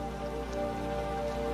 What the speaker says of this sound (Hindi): तीनों के बीच सन्नाटा छा जाता है, सिर्फ बारिश की आवाज।